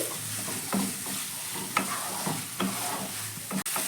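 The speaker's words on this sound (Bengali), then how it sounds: "আমি এক থেকে দু মিনিট মতো ভালো করে একটু কষিয়ে নিচ্ছি" Peas cooked down with spice masala in a pan give a steady close sizzle, broken by a few sharp scrapes and knocks from stirring.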